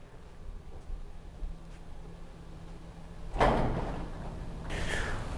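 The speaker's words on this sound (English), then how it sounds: "Now we just lower the door and we work our way up the rest of the door." An insulated garage door being lowered during an insulation kit install gives a loud, close thump and rumble partway through, followed by a second scraping rush as it settles.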